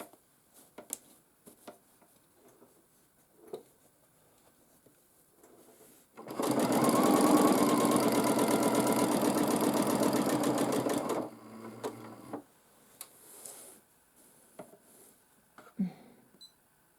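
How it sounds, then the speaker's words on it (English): Sewing machine stitching quilting lines around the shape of a fabric patch on a wall hanging, with a single loud, rapid, even burst lasting about five seconds between quiet handling clicks. "I will start with quilting the shape of the patch I selected."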